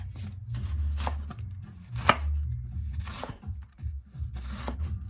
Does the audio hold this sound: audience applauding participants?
no